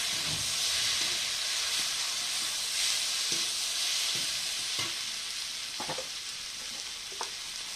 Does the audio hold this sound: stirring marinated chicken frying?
yes